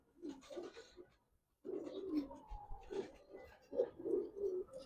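Nazra kaldam and khaki pigeons give soft, throaty coos in repeated bursts, close and fairly quiet, with a short silent gap near the start and no talk.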